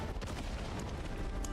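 A dense, rumbling explosion roars in the background of the Diablo IV video game, a continuous crackling burst that holds at a steady level without pause.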